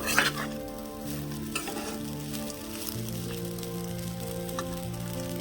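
Tempering for lemon pulihora sizzles steadily in a pan with fenugreek powder added, a continuous crackling fry with a few sharper pops and scraping stirs, close and moderately loud, with a faint steady hum underneath.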